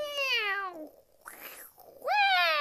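A human voice imitates a cat, giving two drawn-out meows with a soft breathy pause between them, close and clear with no other sounds.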